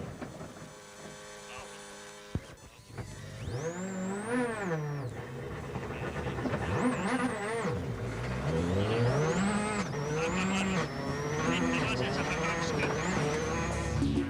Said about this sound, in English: Tony Gardemeister shows how slippery the forest roads are.